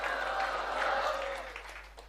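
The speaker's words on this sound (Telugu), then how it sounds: "చప్పట్లు కొట్టండి" Students in a classroom clapping together, a brief burst of dense applause that fades slightly toward the end, fairly quiet overall.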